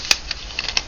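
Scissors snipping through material for a shabby chic craft, three or four quick crisp cuts spaced irregularly over under a second, close and clear.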